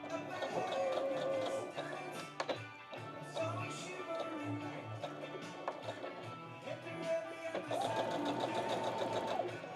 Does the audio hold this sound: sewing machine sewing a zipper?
yes